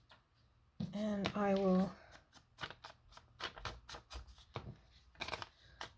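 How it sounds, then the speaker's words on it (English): Material torn off a roll by hand after measuring, a sharp ripping burst of about a second that stands out clearly, followed by a run of soft tapping and handling noises with a brief voice. "So I'm just going to rip it off here"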